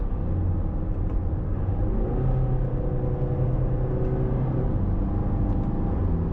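A 2024 Range Rover Evoque accelerates on manual paddle shifts, with a steady, loud engine and road rumble filling the cabin throughout and no talk.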